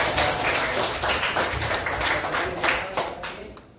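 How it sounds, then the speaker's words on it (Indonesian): Students in a Quran recitation class clap together in a dense, steady burst of applause lasting several seconds, loud and close, with only faint voices mixed in. "Oke, tepuk tangan buat saya."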